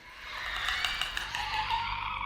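A raspy, rattling clicking sound of a clicker zombie from a video game rasps continuously in a hissy, gurgling texture, moderately loud with no talk.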